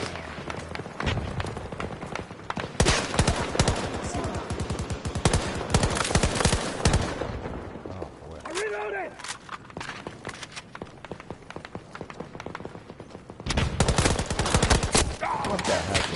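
Gunfire from the Battlefield 2042 video game: dense bursts of automatic weapon fire and shots, loud and close, with a lull in the middle and brief game voices in the background before the firing returns.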